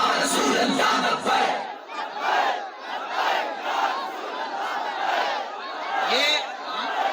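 Large crowd at a religious gathering chanting a slogan in unison, loud massed voices rising and falling in waves, sustained and close.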